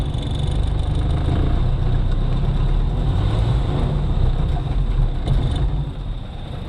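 A low, rumbling Jeep engine runs steadily close by with a deep throaty hum, holding fairly even before easing slightly near the end.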